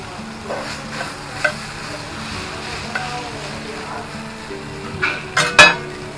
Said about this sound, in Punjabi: ਮਟਨ ਟਿੱਕਾ ਜੀ ਤਵੇ 'ਤੇ, ਪਿਓਰ ਮਟਨ ਟਿੱਕਾ,